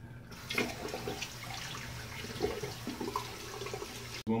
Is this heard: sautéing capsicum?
no